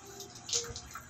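Water is poured to rinse a bedridden cancer patient during a bath at home, a faint splashing trickle with soft rising gushes, close and quiet.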